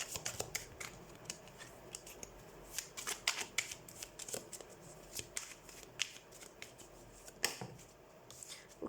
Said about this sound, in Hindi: सो सबसे पहले हम टैरो कार्ड को शफल कर लेते हैं